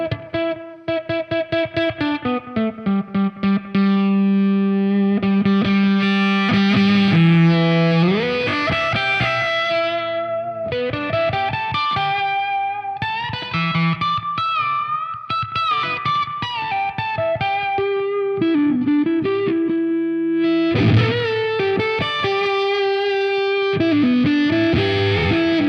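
An electric guitar through a Warm Audio Foxy Tone Box octave fuzz pedal plays loud, continuous distorted lines. Quick repeated picked notes lead into sustained bends and sliding phrases, with no talking.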